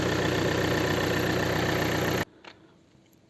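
Volkswagen Golf 7 engine idling with its original air filter, a steady, loud, even drone that cuts off abruptly partway through, leaving quiet handling noises.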